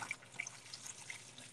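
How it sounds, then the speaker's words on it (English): A hand-washing sink runs with a light, steady trickle and a few bright drips and splashes, close by and fairly quiet, with no voices. "when you're washing your hands, make sure that you're getting in the creases"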